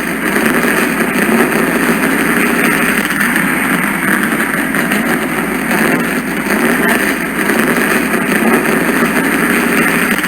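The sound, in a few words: race car engines fired, cars rolling off pit lane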